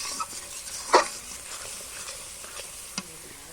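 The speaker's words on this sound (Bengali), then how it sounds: "এটা ভাজতে ভাজতে তখন হবে হচ্ছে শুটকি মাছ ভুনা" Dried fish being fried and stirred in a pan, a soft steady sizzle with a few sharp scrape and clink sounds from the spatula, close and alone.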